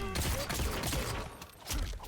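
Peacemaker's Sonic Boom special move in Mortal Kombat 1, heard as a burst of sharp cracking blasts and impacts amid busy fight-game effects, loud and close with a brief lull before another hit.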